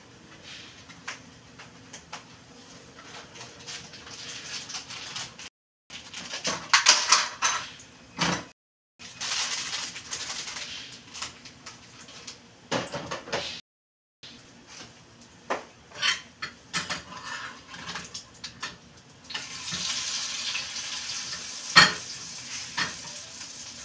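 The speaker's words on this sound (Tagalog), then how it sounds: "magtitimpla tayo ng kape" A spoon stirring coffee in a cup, with clinks and scraping swirls in repeated short bouts separated by brief pauses, moderately close and heard alone.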